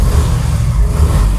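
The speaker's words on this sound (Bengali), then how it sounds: "আচ্ছা এটা স্টার্ট করে বন্ধুদের শোনাও" A 2021 Yamaha FZ version 3 motorcycle in Dark Knight colour, engine running loud and close with a steady low rumble and slight rises in revs, no voices.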